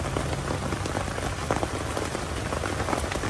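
Rain falls steadily in a forest, a dense, even patter of drops hitting surfaces that continues without a break, close and fairly loud, with no voices.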